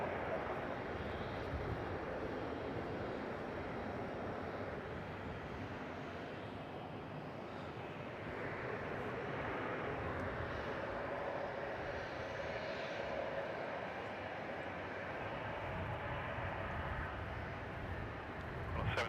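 Jet airliner taking off from runway 34 at Melbourne Airport, a broad steady engine roar heard from a distance that swells gently and holds throughout, with faint wind noise.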